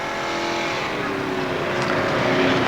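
A supercharged, alcohol-burning 542 cubic inch (8.9 litre) drag racing engine with billet aluminium heads and a roller camshaft roars steadily and loudly throughout, a dense sustained engine blare without pause.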